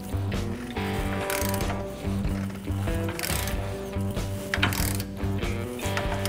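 A torque wrench tightening the leaf spring eye bolts on a 1977 International Scout II during a lift kit install, giving metallic ratcheting clicks and clunks over a steady tonal hum nearby.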